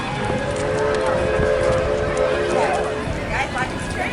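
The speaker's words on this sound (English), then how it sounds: "Oh, the train's coming in." A train pulls into a station at a historic village, with a low rumbling roll, a sustained tonal squeal or whistle, and rattling cars amid crowd chatter and people talking nearby.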